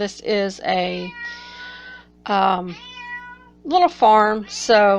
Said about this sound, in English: I do apologize for my cat meowing in the background